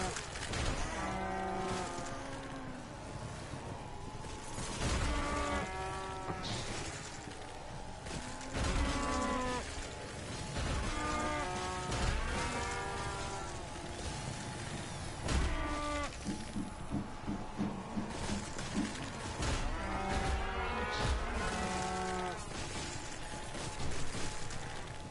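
Cows moo repeatedly in the Call of Duty Black Ops 3 Dead Ops Arcade minigame, the calls recurring over a busy bed of game music and effects with mechanical ratcheting sounds, fairly loud throughout.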